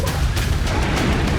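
Loud, repeated booming blasts of missile strikes in a residential area in Ukraine, in rapid succession, each a sharp thud rolling into a low rumble, dense and close.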